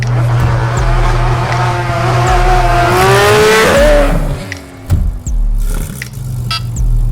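A car engine held at full throttle, loud and close, with the revs climbing steadily through a gear before a quick shift and renewed pull, a low droning tone running underneath throughout.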